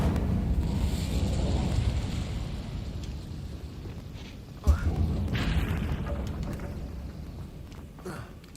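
Incendio fire spell cast in Hogwarts Legacy, a single sharp burst midway through a low rumbling game ambience, with a fainter pop near the end.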